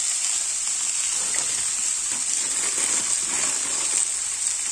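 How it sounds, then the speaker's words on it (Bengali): Bitter gourd and potato pieces with turmeric and salt are stirred and lightly fried in a pan, giving a continuous soft sizzle with faint stirring movement beneath and no talk. "এবার বেশ খানিকটা সময় এভাবে নাড়াচাড়া করে হালকা একটু ভেজে নেব"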